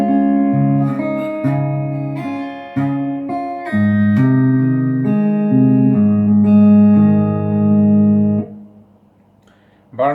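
An electric slide guitar plays one bar of a song intro, with close, loud sustained notes and chords sliding between pitches for about eight seconds before ringing out into near silence.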